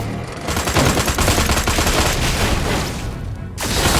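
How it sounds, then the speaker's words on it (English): Dense, continuous gunfire rakes a tower in the Destroy All Humans video game, a loud, steady barrage of rapid shots and impacts that holds for several seconds before breaking off briefly near the end. "Tower 1 is under fire"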